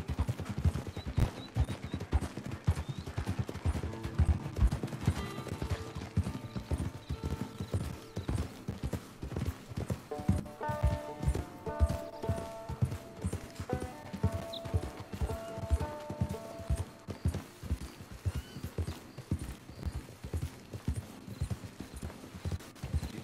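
Steady clip-clop of horse hooves trotting on a hard surface in Red Dead Redemption II Online, mixed with music and ambient game sounds, with an occasional faint whinny.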